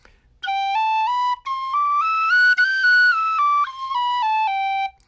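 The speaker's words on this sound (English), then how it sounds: "you can practice your C natural fingerings" A tin whistle plays a slow series of sustained, pure notes using C natural fingerings, stepping up and then back down in pitch, close and alone with short breaks between phrases.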